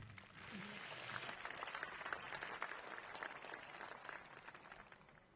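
Audience applause at a high school rugby capping ceremony, steady mid-level clapping from a seated crowd that swells slightly and then eases off, with no talk over it.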